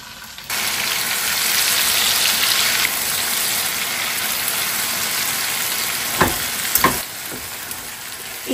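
Mixed vegetables hit a hot pan with onion, dried chilies and five-spice seasoning, bursting into a loud, close sizzle that holds steady, then a few scraping stirs and clanks near the end.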